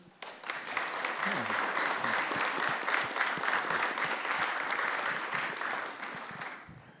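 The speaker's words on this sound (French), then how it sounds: "Une bonne main d'applaudissement" At a public meeting in Edmundston, a room of attendees claps for a judge and his team. The sustained applause swells in quickly, stays steady and full, then tapers off slightly at the end.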